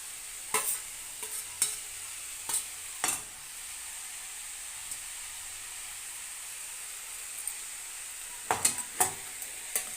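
Tomato and bitter gourd frying in an oil tempering give a steady hissing sizzle throughout, broken by a few sharp clicks of a spoon stirring against the pan, and no voices.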